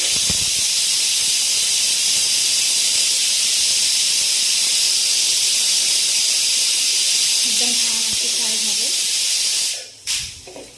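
Stuffed bitter gourds fry in a pan with a loud, unbroken hiss of sizzling oil that runs for about ten seconds and then suddenly cuts off, with a faint voice briefly under the hiss.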